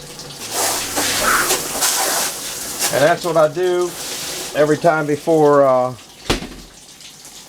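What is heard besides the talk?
hosing water into an ice machine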